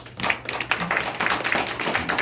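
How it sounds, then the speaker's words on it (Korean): Audience at an agricultural technology center farming class claps to welcome a lecturer, close and fairly loud clapping with distinct individual hand strikes over a brief stretch. "뜨거운 박수로 환영해 주시면 감사하겠습니다."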